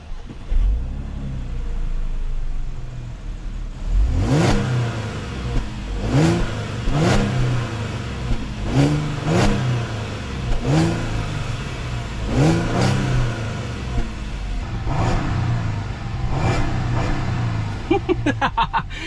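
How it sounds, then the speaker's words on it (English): A 2011 car with a boosted engine revs repeatedly through its exhaust, about seven loud throttle blips with a deep growl rising and falling over a steady idle rumble, close and without talk. "Actually, let's get an exhaust clip."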